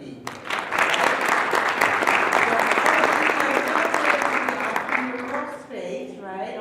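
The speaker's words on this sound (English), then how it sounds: "I think you deserve a round of applause just for being here" Audience applause at a youth pitch competition fills about five seconds with dense, steady clapping, then fades as a voice begins speaking near the end.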